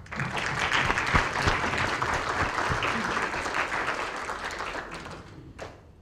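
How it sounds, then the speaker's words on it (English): A banquet audience applauds, a dense burst of many hands clapping that holds steady for several seconds and then tapers off toward the end. "So let's give them all a round of applause."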